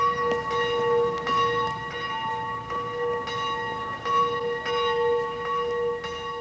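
School and chapel bells ring out, struck repeatedly about once a second, their long resonant tones overlapping and carrying with no voices.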